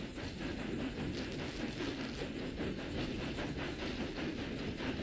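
A train in Red Dead Redemption 2 approaches along railway tracks with a steady, dense rumble and faint rhythmic clatter. The sound stays loud and constant throughout, with no voices.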